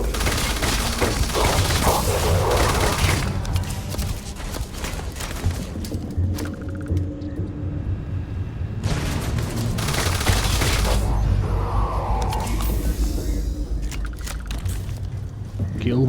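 Sustained bursts of weapon fire from the space game Starfield, Terran Armada DLC, rattle in dense volleys with breaks and booming hits, under music and occasional voices.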